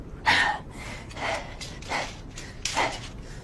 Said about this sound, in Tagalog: Hinihingal din siya.